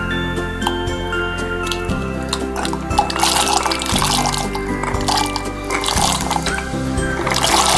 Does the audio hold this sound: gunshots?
no